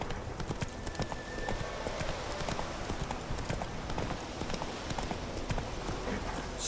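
Roach, Geralt's horse in The Witcher 3: Wild Hunt, gallops with a fast, steady drumming of hooves that runs for several seconds at moderate volume, with no voices.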